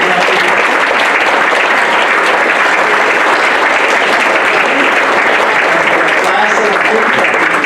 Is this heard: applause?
yes